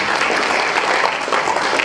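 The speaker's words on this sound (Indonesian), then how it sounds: "Tepuk tangan untuk kita semua." Audience applause at an Indonesian motivational seminar, a dense steady wash of many hands clapping close and loud, continuous with no speech over it.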